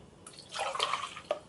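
Water pours into a cup until it overflows, giving a short, faint splashing trickle that swells and then ends with a single drip-like plop.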